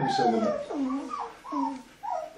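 Two-week-old Berger Blanc puppies whimper and yelp close by in a run of short, rising and falling cries, with a person speaking briefly over them.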